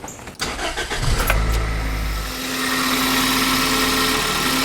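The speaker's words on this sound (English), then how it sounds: "Now I'm going to crank the engine" A car engine freshly rebuilt for break-in cranks briefly with a rough churning, catches and fires up, then settles into a steady idle.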